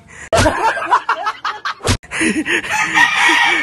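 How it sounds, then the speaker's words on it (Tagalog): Chickens cluck and a rooster crows in short bursts in a backyard chicken coop, loud and close, with a few sharp knocks mixed in. "Tingnan nyo, puro chicken."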